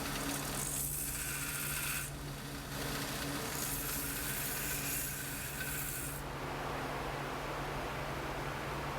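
Strokes of a file or rasp rub against a dry teak handle on a handmade paring knife, giving a continuous close scraping hiss that swells and eases over several seconds before fading softer.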